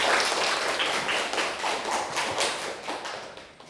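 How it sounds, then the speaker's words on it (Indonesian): Students in an Indonesian vocational school (SMK) classroom clap together after a cheer, a dense, steady patter of many hands close by, lasting several seconds with no talk over it. "tepuk tangan untuk semua"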